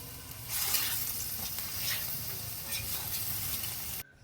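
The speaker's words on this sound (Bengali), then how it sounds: "ওই আটাটা ভাজতেছে" Flour dry-frying in a pan for a spicy tilapia and Bombay duck curry gives a steady, even sizzle, with scraping stirring strokes audible close up until the sound cuts off abruptly near the end.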